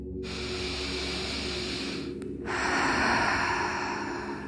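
Slow, audible breaths during a yoga nidra relaxation session, a long steady exhale followed after a brief pause by a louder, fuller breath, close and alone with no talking.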